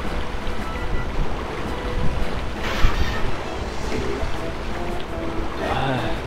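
Rushing water and splashing from the Disney's Atlantis video game on PlayStation, a steady broadband wash with a brief louder surge midway, continuous throughout the level.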